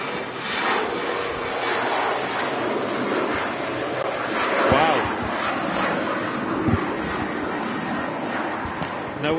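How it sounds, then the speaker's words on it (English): Finnair Embraer jet taking off at Manchester Airport, bound for Helsinki: a steady, loud broadband engine roar fills the whole stretch, with a voice speaking over it. "Got a Finn Embraer heading back to Helsinki"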